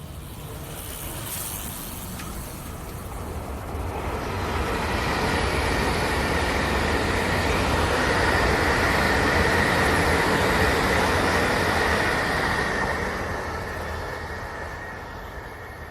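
A train rumbles past at a quiet trackside spot, building from a distant approach to a loud, sustained roar with steady wheel clatter and a faint high whine before gradually easing away.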